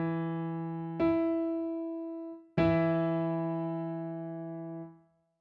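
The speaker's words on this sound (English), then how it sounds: "the interval of an octave has a ratio of 2-to-1 and sounds like this" Two clean, sustained musical tones an octave apart, at a 2-to-1 ratio, are struck in turn and then ring together, each attack decaying slowly before both cut off cleanly.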